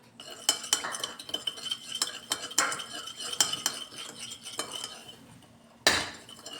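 A spoon clinks and scrapes rhythmically against a bowl while a broccoli salad dressing with sugar and pepper powder is mixed, a series of quick close taps ending in one louder knock.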